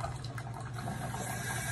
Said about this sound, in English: I am going to fill this up with some water